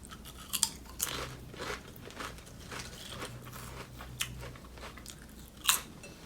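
Lay's Doritos mashup chips crunched and chewed up close, barbecue flavor, with a few sharp bites standing out from steady crackly chewing over several seconds and no talking.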